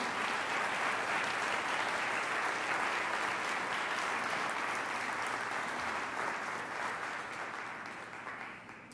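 Steady, dense applause fills a church as a congregation claps for the Lord during a Sunday service, holding loud and even throughout before easing off slightly at the close.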